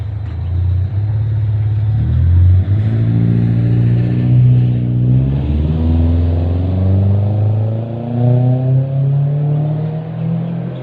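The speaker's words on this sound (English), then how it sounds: "That is actually the quietest that you will get, that vehicle. Usually it's much louder" A vehicle engine runs steadily and then revs in the suburb of Leichhardt, a loud, close, continuous rumble whose pitch climbs and falls through several revs without a break.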